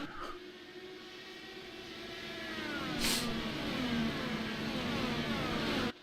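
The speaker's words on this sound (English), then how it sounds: "As you hear the revs coming up" Several IndyCar DW12 race cars in iRacing rev up together at a race restart at Kansas, a continuous rising and falling engine drone that swells louder over a few seconds, with pitch shifting as the cars gather speed.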